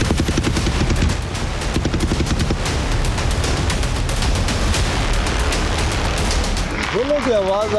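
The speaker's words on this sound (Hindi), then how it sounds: "गोलों की आवाज़ आ रहे हैं, बस आगे निकल रहे हैं।" Shelling and gunfire during an airstrike, rapid repeated cracks and booms in dense bursts that keep going, with a rising and falling siren-like tone near the end.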